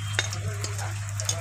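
Dried red chillies, halved, fry in hot mustard oil in a kadai, making a brief steady sizzle with a few light crackles over a constant low hum.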